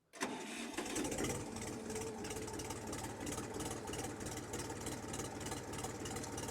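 A new-model XINGTAI 240L mini tractor engine cranks briefly and catches, then settles into a loud, steady, rattling idle nearby.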